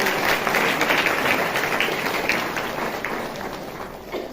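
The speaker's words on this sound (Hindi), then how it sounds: "ताली बजा के प्रभु का धन्यवाद।" A church congregation claps their hands in thanks to God, a dense, steady wash of applause that slowly thins and fades toward the end.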